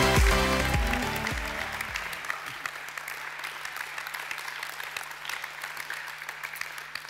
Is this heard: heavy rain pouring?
no